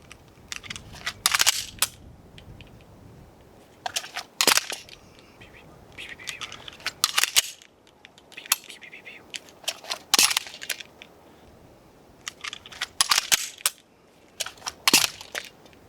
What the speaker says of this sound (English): So I'll just do reload, fire, reload.